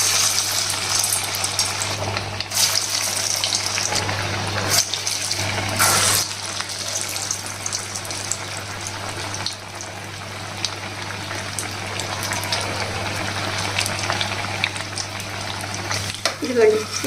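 Moong dal and corn vadas dropped one by one into hot oil bubble and sizzle steadily up close, over a constant low hum with a few louder bursts of frying.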